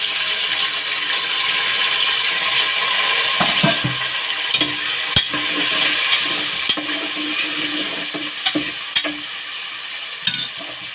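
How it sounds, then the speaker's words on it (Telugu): Onions go into frying kebab pieces for a cucumber-tomato kebab curry, giving a steady close sizzle with scattered scraping and stirring clicks, no voices. "ఇప్పుడు దీంట్లో ఉల్లిపాయలు వేద్దాం."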